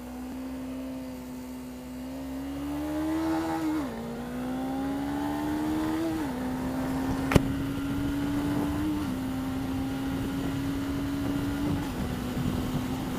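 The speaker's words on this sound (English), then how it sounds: "this will give us a good opportunity to see what the acceleration's like on the little 250R" A Suzuki GSX250R motorcycle pulls onto a highway under hard acceleration. Its engine note rises steadily through the gears with brief dips at each of several shifts, then settles into a loud, sustained drone with wind rush.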